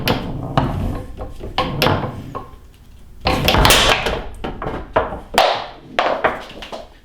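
Foosball pull kick shots on a table: a series of sharp wooden knocks and clacks as the rod figure strikes the ball, irregularly spaced, some in quick pairs, close and fairly loud, without talking.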